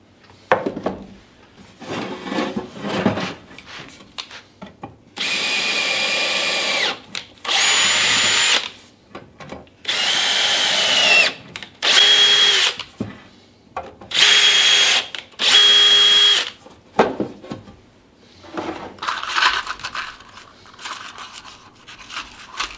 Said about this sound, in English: Now all I got to do is tap them, put some screws in them, and Don's your uncle